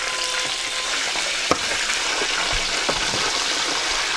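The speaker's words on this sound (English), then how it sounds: "he's deep frying it in the oil, and that's just sizzling," Boiled free-range chicken deep frying in hot oil in a Kenyan village kitchen, a loud continuous hiss and crackle of bubbling with a few sharp pops, no talk.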